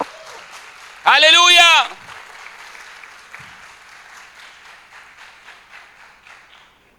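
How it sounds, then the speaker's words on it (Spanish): A church congregation applauds: one voice rings out loudly for a moment, then soft, steady clapping continues at a distance with a few sharper claps scattered through it. "Y dale un aplauso al Señor porque lo tenés que honrar."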